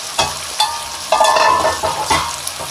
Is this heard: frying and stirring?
yes